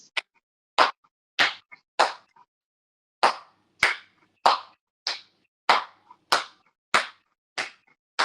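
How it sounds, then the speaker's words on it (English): Single hand claps ring out one at a time, sharp and close, at a slow, slightly uneven pace with short silences between them, during a live yoga session. "clapping"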